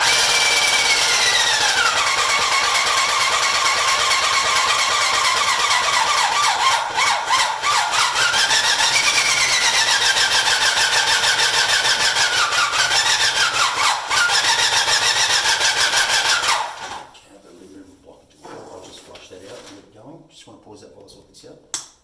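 A Graco paint sprayer pump, set up with a jet roller, whirs loudly and steadily while building pressure to about 800–900 psi for priming, with a rising and falling whine, then cuts out abruptly near the end.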